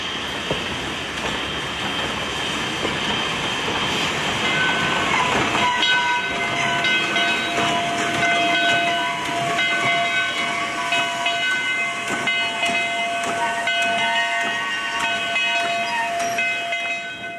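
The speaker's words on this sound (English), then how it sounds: "The train arrives at Eastgate." Virginia & Truckee steam locomotive number 29 arriving at Eastgate, a steady loud hiss of steam with sustained whistle-like tones and rumbling rail noise running throughout, close by, no voices.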